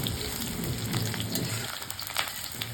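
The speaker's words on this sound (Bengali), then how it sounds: "এরপর কড়াইয়ে তেল দিয়ে তেল গরম হয়ে গেলে এর মধ্যে আমি দিয়ে নিব পেঁয়াজ কুচি।" Chopped onions frying in hot oil in a kadai, giving a moderate, even crackling sizzle that runs close and steady throughout, with no voices.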